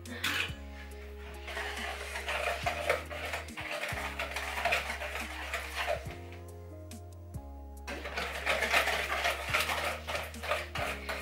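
Brownie batter with eggs being stirred in a bowl, a steady scraping and clinking of utensil against the bowl over a constant low hum, continuous for several seconds.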